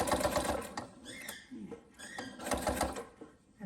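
A sewing machine stitching binding onto a quilt, running in steady fast bursts of needle chatter with a short slowdown and pause in the middle before speeding up again, close and clear.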